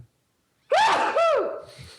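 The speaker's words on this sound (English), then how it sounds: "That was an epic sneeze, wasn't it?" One loud human sneeze bursts out sharply after a moment of silence, close to a microphone, then trails off into a breath.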